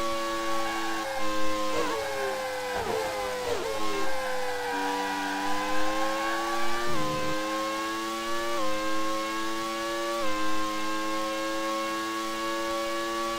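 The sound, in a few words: racing car engines in video game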